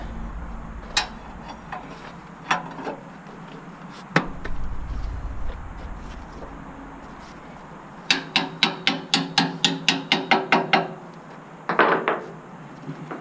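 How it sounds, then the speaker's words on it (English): Sharp metallic hammer strikes on deck shims of a 2018 Fontaine 60-ton RGN float trailer, a few scattered blows then a rapid run of about a dozen evenly spaced hits, close and loud, with a low rumble between. "This time I'm not gonna hammer it too much down."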